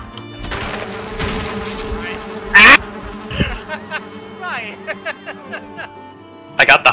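Buzzing insects drone steadily under lively voices, with a few sharp electronic blips and chirps cutting in.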